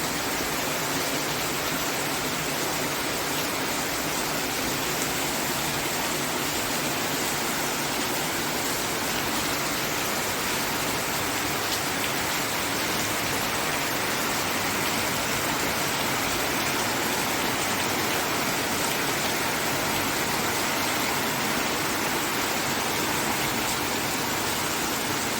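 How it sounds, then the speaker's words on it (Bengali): Heavy rain pours outside as a dense, constant roaring wash that stays loud and unbroken throughout, with no talking. "দেখো কিরম জোরে হচ্ছে, পুরো সাদা, পুরো সাদা হয়ে বৃষ্টি হচ্ছে"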